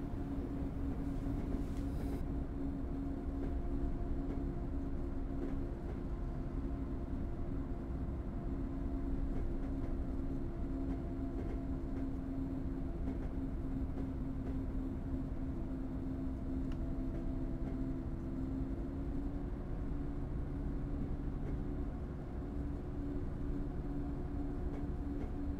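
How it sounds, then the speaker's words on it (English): A Class 101 diesel multiple unit powers up in Train Simulator, its engine drone a steady, loud hum with sustained tonal whine holding through the stretch, no voices. "Just going to apply a bit more power to the train."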